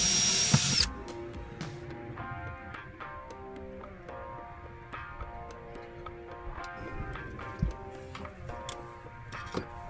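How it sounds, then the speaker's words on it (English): A drill bores a small pilot hole while a diesel heater is installed in a camper van. Its whining motor hums steadily under a scatter of ticking and clicking, with a brief loud burst at the start. "then I'm going to do a little pilot hole, and then I'm going to insert 4 stainless steel self-chipping screws."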